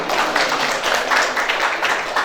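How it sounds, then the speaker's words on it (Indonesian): Audience at a school gathering for an Indonesian madrasah applauds in a dense, steady wash of many hands clapping, loud and continuous throughout. "Tepuk tangan untuk kita semua."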